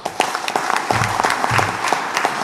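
Audience applause at a political speech event in Florina honouring the pillars of Greece's post-dictatorship transition: dense, steady clapping from a large crowd filling the whole moment, with a faint low voice underneath.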